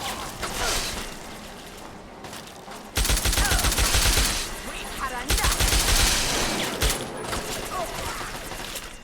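Gunfire in Fallout 3, with dense bursts of shots that crack loudly and close. The bursts come in clusters separated by short gaps, over game ambience and faint background voice.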